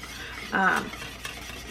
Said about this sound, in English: keep stirring with the whisk across the entirety of the bottom